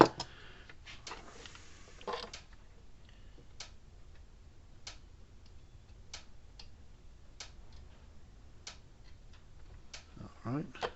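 Zareba Blitzer 10 mile solar electric fence charger clicking steadily, sharp ticks spaced roughly a second apart under a low background hum, with brief handling noise near the start and end.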